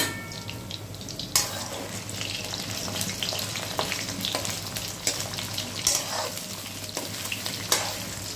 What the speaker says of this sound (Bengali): কোপ্তাগুলি ভাজা হোক।